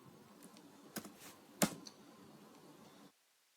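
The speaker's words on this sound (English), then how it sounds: "You just type CTK" A computer keyboard types a short command into a terminal while bioinformatics software is installed. A few quick, faint key clicks sound alone, one sharper tap stands out, and then the sound cuts to silence.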